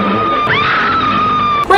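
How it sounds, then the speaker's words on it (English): Woman's sustained high-pitched scream from a King Kong film, loud and continuous, over a noisy movie soundtrack. "all she does around Kong is scream."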